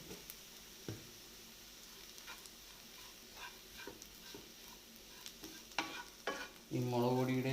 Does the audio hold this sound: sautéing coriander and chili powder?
yes